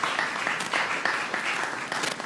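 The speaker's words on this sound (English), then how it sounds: "Please give yourself a round of applause." Audience applause at a community candidate forum, a continuous burst of many hands clapping close by, steady and moderately loud.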